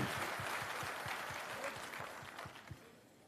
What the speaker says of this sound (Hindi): अपने लिए जोरदार ताली बजाइए